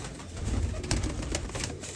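A Teddy pigeon chick gives soft, low cooing murmurs close by, brief and fairly faint under a muffled, rustling background.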